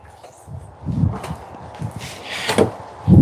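A puppy lock is unlatched and removed from a door at a windy homestead, giving a few close knocks and rattles over steady wind noise, ending in a sharper clunk.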